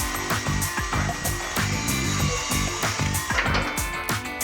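Copper bonding wire for a cable bus installation is cut with a power tool, a close, steady grinding drone broken by rhythmic repeated bites, with no talking.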